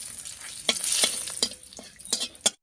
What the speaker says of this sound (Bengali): তেলের উপরে দিয়ে দিয়েছি গোটা জিরা, দিয়ে দিচ্ছি একটা শুকনো লঙ্কা, দেবো একটা তেজপাতা।